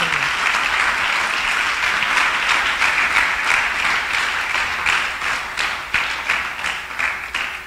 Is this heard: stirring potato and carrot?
no